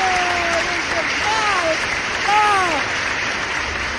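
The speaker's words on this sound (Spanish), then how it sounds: "Los aplausos." Applause on a Spanish-language television news program, a continuous broad patter of clapping with a few brief whistle-like tones rising and falling over it.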